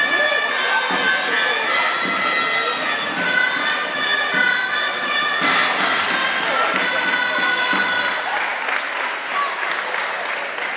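Sustained audience applause at a hometown pageant ceremony crowning the local pubilla and hereu in Anglès, steady, dense clapping with some cheering, loud and continuous throughout.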